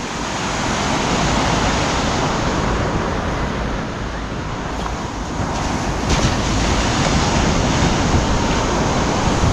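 Ocean waves roll onto a beach in a constant, loud wash of surf with heavy wind buffeting the microphone, so the roar stays broad and steady and no clear voices come through.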